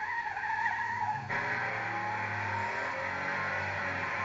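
Porsche 911 engine revving hard while the car drives at speed, a loud sustained mechanical howl with tire noise, the pitch shifting as the car accelerates, with no voices.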